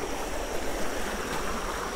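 Water in a backyard creek rushes in a steady, close, full wash with no voices.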